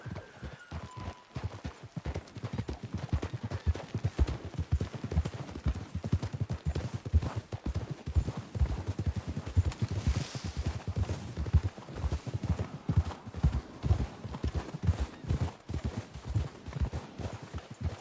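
Steady clip-clop of horse hooves walking at an even pace in Red Dead Redemption 2, close and continuous, with a few snorts and faint background ambience.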